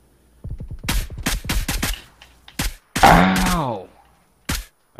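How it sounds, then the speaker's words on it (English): Bursts of suppressed gunfire crack in quick rapid-fire volleys during a PUBG match, a few loud separated shots following, with a pained vocal groan cutting in partway through. "Is that dude shooting with the suppressor again?"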